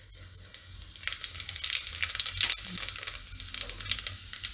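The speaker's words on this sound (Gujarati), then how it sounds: "તેલ આપણું ગરમ થઈ ગયું છે તો પહેલાં આપણે એમાં જીરું નાખી દેવું." Cumin seeds hitting hot oil in a pan for a Gujarati kapuriya snack, a bright crackling sizzle that swells and spatters up close, with no talking.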